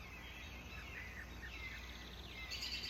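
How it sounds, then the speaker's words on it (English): Birds sing outside on a quiet morning, thin repeated chirps and trills heard faintly over a steady low background hiss, with no voices. "I don't know how well you can hear my birds, but can you hear the birds?"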